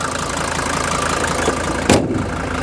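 A 38-year-old Mercedes W123 300D diesel idles steadily and smoothly close by, with a brief sharp click or clunk near the end and no talking.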